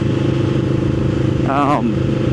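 A Yamaha Vmax 1700 motorcycle cruises on the road with a steady, loud low engine drone and constant rumble, and a brief rising tonal sweep is heard midway.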